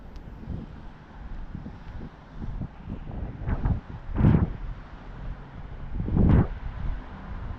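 Gusty wind buffets a head-mounted camera microphone on an outdoor walk, producing low rumbling blasts that swell and fade, with two stronger thumps of wind standing out against a softer, constant roar.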